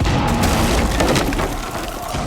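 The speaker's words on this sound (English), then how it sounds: "Nades are going out." Grenade blast during a Rainbow Six Siege esports grand final match, a loud booming rumble with debris-like crackle filling the short moment, dense and close.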